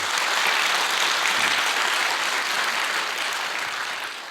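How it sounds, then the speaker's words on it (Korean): Applause fills a Korean church during a dawn prayer service, a sustained, even clapping from the congregation that tapers slightly toward the end. "용화 목사님 위해서 이런 박수 한번 해주세요."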